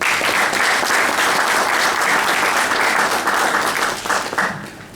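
A crowd at a formal address breaks into sustained, dense applause after a speech, loud and steady before tapering off in the last second.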